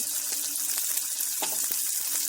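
Chopped onion sizzling in hot oil in a pan, a bright, even hiss close up with a few light scrapes or pops, brief and without talking.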